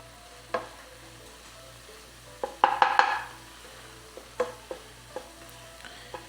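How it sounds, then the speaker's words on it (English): A spoon scrapes and stirs thick flour roux in a pan for shrimp and grits, with a cluster of scrapes near the middle and scattered lighter taps afterward over a faint low hum. "We stir it around and let that thicken up for just a minute"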